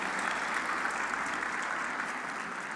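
A church congregation applauds together, a steady, dense wash of many hands clapping at even volume throughout, heard from within the room.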